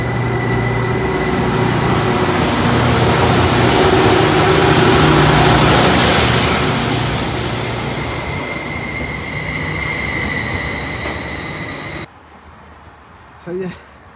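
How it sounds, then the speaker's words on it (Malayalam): A local train rumbles past at close range, a loud, sustained rolling roar that swells and slowly fades before cutting off abruptly, leaving faint ambient noise and a brief knock near the end. "ഇതാണ് ഇവിടുത്തെ ലോക്കൽ ട്രെയിൻസ്."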